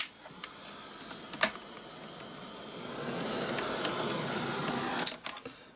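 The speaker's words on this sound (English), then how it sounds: "the fan in that heat gun is starting to go" A failing heat gun blows hot air over clear gesso on an acrylic painting, giving a steady, loud broadband roar that swells midway and then cuts off with a few clicks near the end.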